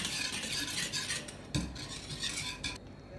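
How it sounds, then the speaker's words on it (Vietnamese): A utensil stirs a keto milk tea and egg pudding mixture in a bowl or pot, giving continuous close scraping and swishing with a clink midway, and no voices. "khuấy đều hỗn hợp của mình lên nha"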